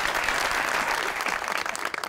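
A studio audience on a television talk show breaks into dense, continuous applause, a loud, even roar of many hands clapping that grows slightly more ragged near the end.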